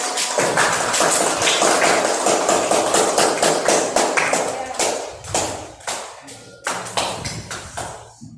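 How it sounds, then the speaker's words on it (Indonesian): A classroom of students claps in a fast, steady rhythm that breaks into looser, scattered claps toward the end, loud and close with no talking. "Oke, tepuk tangan dulu."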